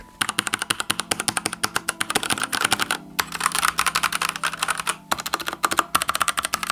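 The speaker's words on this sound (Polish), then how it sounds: "Proszę bardzo moi drodzy, ta klawiatura brzmi właśnie tak." Rapid, steady typing on an SPC GK650K mechanical keyboard with red switches, many close clicking keystrokes in quick succession, with a couple of brief pauses and no talking.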